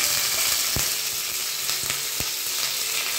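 Mustard seeds splutter in hot oil as a tempering is made for rasam, with a steady close frying hiss broken by a few sharp, separate pops.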